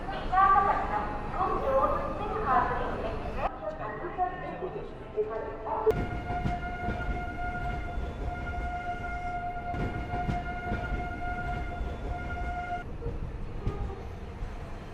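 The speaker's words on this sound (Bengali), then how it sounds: "ছটা পঁয়তাল্লিশের ট্রেন মোটামুটি দশ থেকে চোদ্দো মিনিট লেটে কিন্তু বিশাখাপত্তনম জনসন থেকে ছেড়ে বেরোচ্ছে" The Visakhapatnam–Kirandul passenger train departing Visakhapatnam Junction, with a long steady horn or whistle tone, rumbling and clattering throughout, and people talking over it at the start.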